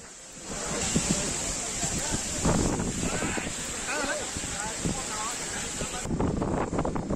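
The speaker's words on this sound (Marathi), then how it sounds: "जळगाव शहर आणि परिसरामध्ये वादळी वाऱ्यासह मुसळधार पावसानं हजेरी लावली आहे" A stormy gale with heavy rain over Jalgaon city, a dense, continuous roar of wind and pouring rain with gusting swells and a voice faintly audible beneath it.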